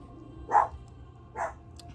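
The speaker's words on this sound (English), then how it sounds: "My little Theodore dog." A small dog barks twice indoors, two short moderately loud yaps about a second apart over a low background hum, with no talk.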